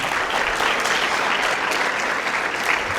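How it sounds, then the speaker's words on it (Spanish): A church congregation claps steadily throughout, a dense, continuous wash of applause filling the room at close range with no break. "Dale un aplauso al Señor por eso."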